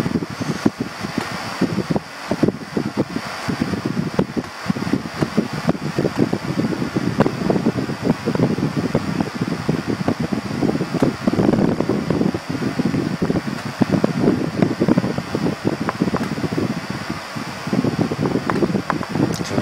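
An electric motor running on a rotary transformer during a test, giving a steady, continuous loud whir with fluctuating rustly noise throughout and no talking.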